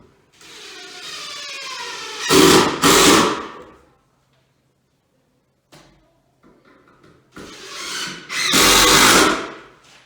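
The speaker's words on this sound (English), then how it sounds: "throw just a couple screws in" A power drill drives screws into wood framing for a divider in a grainery, with two loud bursts, then a gap with small clunks, then two more bursts close by.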